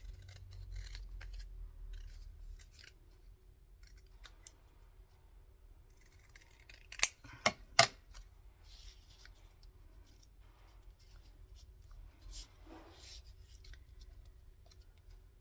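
Scissors snipping paper scraps for a collage at a desk, soft close rasping cuts scattered across the quiet stretch, with a few sharper snips bunched near the middle.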